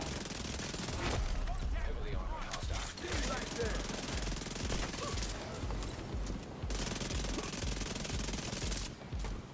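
Sustained SMG fire in The Division 2, a fast, loud stream of shots that runs almost the whole time, with someone speaking over the gunfire.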